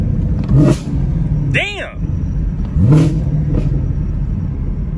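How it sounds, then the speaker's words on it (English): A Chevrolet Camaro SS LT1 V8 with 2-inch headers and an X-pipe revs up and drops back on a downshift, rumbling close by, while a man briefly exclaims over it. "the downshift sound pretty good"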